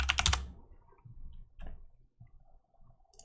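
Quick burst of computer keyboard typing up close, a rapid cluster of clicky keystrokes at the start, followed by a few scattered softer taps and faint low rumbles in a quiet room.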